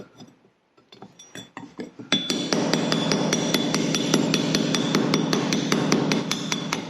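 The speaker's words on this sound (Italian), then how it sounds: "E adesso prendo qualcosa, un martellino, e vediamo che saldatura è uscita." A small hammer strikes a fresh weld bead on iron made with an electrode, a quick series of sharp metallic taps that starts faint and then becomes a steady, dense clatter of ringing hits close by.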